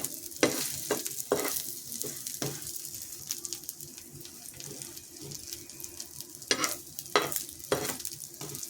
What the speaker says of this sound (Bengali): এটা সম্পূর্ণ গ্যাস কমিয়ে কিন্তু ডিমটা ভাজতে হবে বন্ধুরা